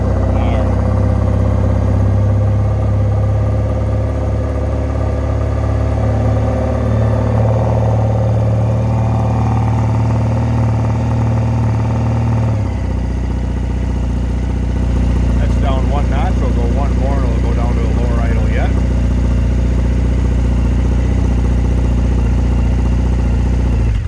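A 2009 Triumph Bonneville 50th Anniversary motorcycle engine idles steadily close by, a low even rumble with a brief rev lift partway through and some talking over it.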